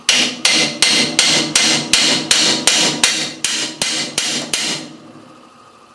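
Metal-on-metal hammer blows drive a punch against a part during a Land Rover 300Tdi brake and clutch tower overhaul: about a dozen sharp, evenly spaced strikes, loud and close, ending in quiet.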